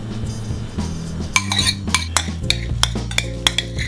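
Egg being whisked in a bowl for cauliflower tortillas: quick, rhythmic metallic clinks of the whisk against the bowl, close and fairly loud, with no speech.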